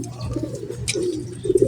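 Racing pigeons handled after a 133 km training race, with soft close cooing and a brief flutter over quiet background noise, no talk.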